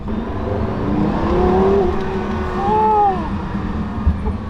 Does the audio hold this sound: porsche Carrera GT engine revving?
yes